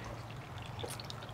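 Settled clay slip water is poured off into a cloth in a faint, brief trickle with small splashy drips, heard close and quiet against a low background hum.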